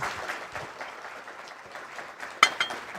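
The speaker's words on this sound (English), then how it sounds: "Ladies and gentlemen, a louder applause for Ronnie Chan" At a fireside-chat event, audience applause rises as a soft, distant patter of many hands, fairly faint and even, with a couple of sharper claps standing out near the end.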